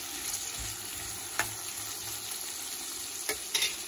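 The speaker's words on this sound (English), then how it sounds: "So we have to fry this one for 5 minutes." Tamarind chutney for masala dosa frying in a pan gives a quiet, steady sizzle, broken by a few soft clinks and scrapes as a utensil stirs it.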